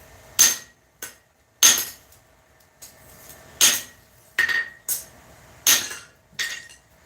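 Sharp metallic hammer strikes on a steel blade ringing out one at a time at an uneven pace, loud and close, with short pauses between blows.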